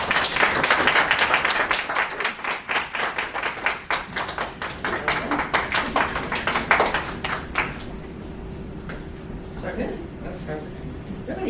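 A meeting audience claps in a dense, steady burst of many hands that thins out toward the end, with speech over the top.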